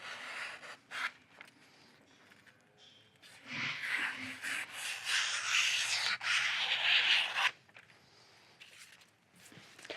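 A kitchen knife rasps back and forth on a 3000 grit whetstone, soft gritty strokes swelling into a long steady scrape midway and then easing off, close and fairly quiet.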